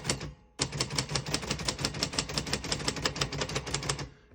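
Typing on a 1943 Royal Arrow portable typewriter: after a short pause, a rapid, steady run of crisp key strikes clatters close by with no voices.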